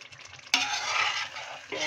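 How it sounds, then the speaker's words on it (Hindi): Fish pieces drop into hot masala in a pan, setting off a sudden loud sizzle that hisses steadily, dips slightly, then flares again as more pieces go in. "इसके अंदर अपने फिश के पीसेस ऐड कर देते हैं"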